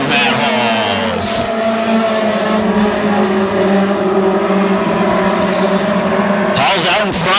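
WISSOTA Mod Four modified race cars roaring around Ogilvie Raceway during a heat race, a loud sustained engine drone with cars passing, under an announcer's talk.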